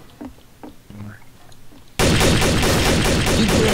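Rifle gunfire in the video game Trouble in Terrorist Town erupts abruptly halfway through as a dense, loud, sustained burst of rapid shots, following quieter background game sounds.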